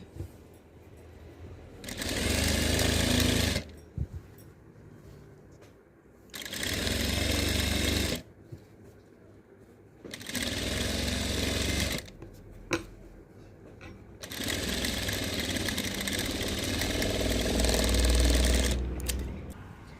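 A sewing machine stitches a frock nighty in four separate loud, steady runs of a few seconds each, with quiet pauses between them and small handling clicks in the gaps.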